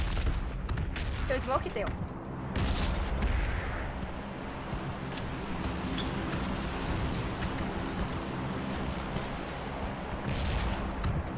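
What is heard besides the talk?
gunfire in a battle royale video game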